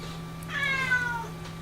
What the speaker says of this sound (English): you can hear my kitty in the background